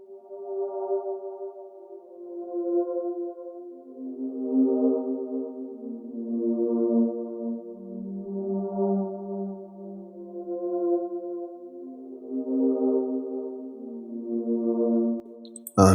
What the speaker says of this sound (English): It is the Moon Landing TE from GMS